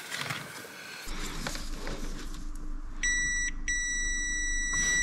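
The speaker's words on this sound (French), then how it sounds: "ça sonne, donc il y a continuité" Continuity beep from an ohmmeter testing a fan fuse: two steady electronic tones, the second longer, clear above a low background hum.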